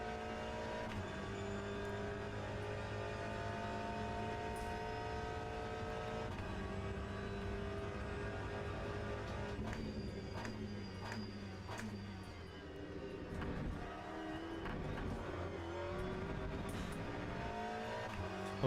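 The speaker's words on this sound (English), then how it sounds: "I think the cars sound really good in this game." Race car engines in the Le Mans Ultimate sim racing game at Monza drone and whine through gear changes, with several cars audible at a quiet, steady level and no talk.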